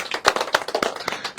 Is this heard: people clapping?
yes